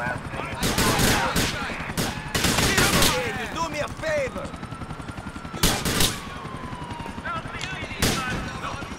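Repeated loud bursts of gunfire ring out during a chase in Grand Theft Auto IV, spaced shots and volleys over ongoing engine and street noise, with brief game dialogue mixed in.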